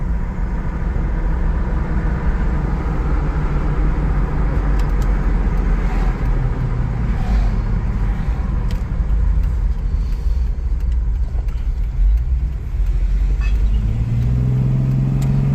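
A Jeep Wrangler with a new axle-back exhaust and intake idles at light throttle, giving a steady, close, deep rumble that continues evenly throughout.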